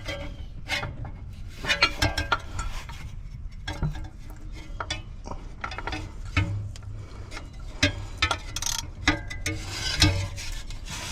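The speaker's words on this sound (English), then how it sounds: "Got a deep well 5/8 socket on a ratchet." A ratchet drives a deep well 5/8 socket in the engine bay of an abandoned 1980s Chevrolet C10 pickup, rapid close clicking in uneven bursts with short pauses between strokes.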